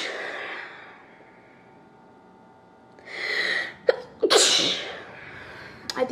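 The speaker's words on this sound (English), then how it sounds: "I can't stop sneezing." Several close sneezes burst out in quick succession after a stretch of quiet breathing, with another short sneeze near the end.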